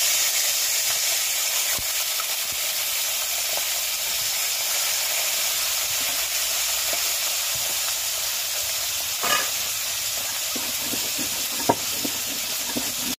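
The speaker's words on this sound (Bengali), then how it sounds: "হালকা করে মাছটা ভেজে নেবে।" Small hilsa fish frying in a pan for a mustard-paste dish, giving a steady, close sizzle and crackle that holds throughout with a few brief pops and no talking.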